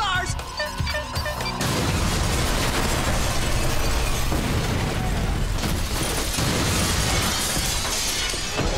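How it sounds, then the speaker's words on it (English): Exploding ninja throwing stars in an animated Voltron Force episode set off a loud burst of crashing, shattering blasts that rolls into a dense, sustained roar of debris and rumble after a brief opening of sounds and voices. "Exploding ninja throwing stars!"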